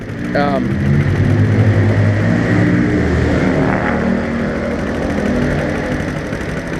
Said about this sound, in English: It's just idling away on choke.